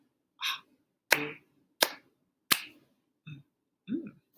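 Third-grade students clap a rhythm in a classroom lesson, three sharp, evenly spaced claps between short sung or chanted syllables from the class.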